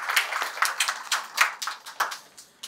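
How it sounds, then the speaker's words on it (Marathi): Scattered clapping at a BSNL Nashik Circle retirement program honouring a retiring madam, a handful of close, uneven claps over under three seconds. "त्यांच्यासाठी टाळ्या वाजवा मॅडमसाठी"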